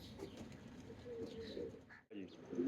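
A Teddy pigeon, a Ferozpuri and Rampuri Teddy cross, gives soft, low cooing close by, a brief murmuring call lasting a few seconds.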